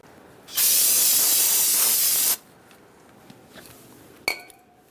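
Brake cleaner sprays in one steady hiss lasting nearly two seconds over the front brake area of a 2000-2007 Ford Taurus, followed by quiet and a brief metallic clink.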